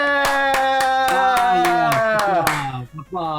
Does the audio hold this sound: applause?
yes